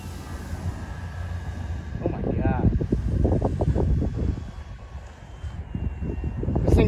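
A balsa RC plane climbs away under throttle outdoors, its motor whine buried in heavy wind buffeting on the microphone, with people talking over it.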